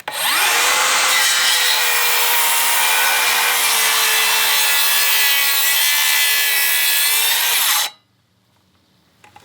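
Makita circular saw ripping along a wood board: a loud, steady high whine with the blade biting continuously for about seven seconds, then cutting off abruptly into near silence.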